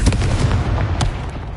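Confringo spell explosion in a PS4 video game: a heavy, booming blast up front followed by a rumbling tail, with a second sharp burst about a second later, loud and close.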